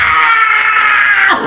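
A death scream from the video game Donkey Kong Country 3, a single sustained high wailing cry lasting over a second, loud and alone, cutting off with a brief downward drop at the end.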